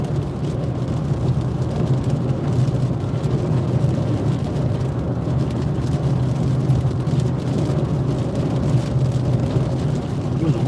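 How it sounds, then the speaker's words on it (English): Steady rain drums on the windshield of a moving car, a dense continuous patter over low road and engine rumble, loud and unbroken throughout. "Man, it's raining now."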